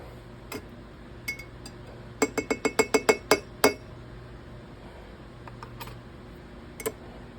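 A spoon clinks against the inside of a glass container while stirring, with a fast burst of about ten sharp taps in the middle and a few isolated clinks before and after over a low hum.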